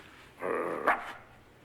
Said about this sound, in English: A dog would come in and bark.